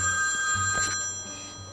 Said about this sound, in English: This phone is ringing.